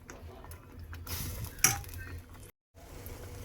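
A spoon stirs medium-size semolina (rava) in a bowl, making a steady scraping clatter with one sharp clink midway, then a brief silent gap before the stirring resumes.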